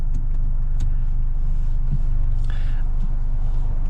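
An Abarth 500 drives along with a steady low engine rumble and road hum inside the cabin, loud and constant, with faint clicks as the shifter is used to downshift.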